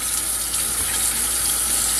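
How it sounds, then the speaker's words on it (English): Tap water running steadily into a sink while kale is rinsed, a continuous close splashing hiss with no breaks or voices. "So I'm gonna give this kale another rinse"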